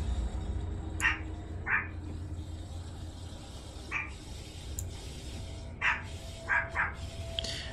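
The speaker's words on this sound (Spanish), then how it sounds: "nunca me he dado cuenta que realmente no se calla mi perro" A dog barking in the Beyond: Two Souls video game, in short separate bursts spaced a second or more apart over a steady low background hum, fairly faint and distant, with no talking.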